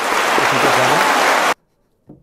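Studio audience applause at an Indonesian talk-show taping on press law, a dense burst of clapping that stops abruptly after about a second and a half, followed by silence and a brief faint thump.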